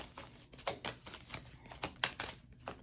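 Tarot cards being shuffled up close, a series of quick papery riffles and flutters in uneven bursts, with no talking.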